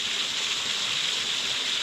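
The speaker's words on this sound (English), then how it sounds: "Cool creek." Creek water flowing steadily with a continuous broadband hiss, close and even, outdoors at night near Dutchman Lake.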